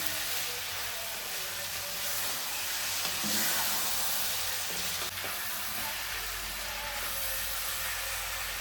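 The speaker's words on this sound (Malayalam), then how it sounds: "ഇനി ഇതെല്ലാം കൂടെ ഒന്ന് ഇളക്കി യോജിപ്പിക്കണം" Mango pickle mixture with salt sizzles in a hot pan as it is stirred, a continuous frying hiss with occasional soft scraping from the stirring, moderately close and with no talking.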